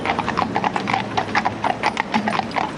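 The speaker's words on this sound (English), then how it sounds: "my young black horse here, on the offside, Dursley, that's his big thing." Hooves of a pair of working horses clip-clop on hard ground in a quick, uneven rhythm, close by, with a faint low voice underneath.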